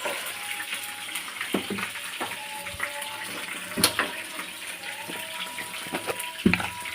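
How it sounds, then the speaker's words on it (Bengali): Liquid bubbles and boils steadily in a cooking pot of pointed gourd with chickpea dal, a close, soft wet burbling with scattered pops and splutters throughout. "দেখেন কীভাবে ফুটছে টকবক টকবক করেছে"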